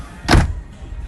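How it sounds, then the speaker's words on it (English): The door of the enclosed head in the console of a 2018 Robalo R302 center-console boat swings shut in one quick, close, solid thud that fades fast, with no voices heard. "The door closes."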